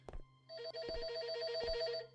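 Telephone ringing in the video game BrokenLore Unfollow: a steady electronic ring tone, close and clear, that starts after a brief thud and continues for about two seconds with no talking.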